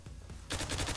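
Rapid bursts of automatic gunfire from a weapon in the online shooter Zula, starting abruptly halfway through after a quieter stretch and repeating in a fast, loud, close rhythm.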